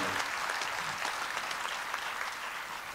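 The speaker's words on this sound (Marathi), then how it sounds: "जोरदार टाळ्या, जोरदार अभिनंदन त्यांचं व्हायलाच हवं." Applause from an audience at a Marathi public talk, dense steady clapping with no breaks for the full stretch, fairly distant and even in loudness.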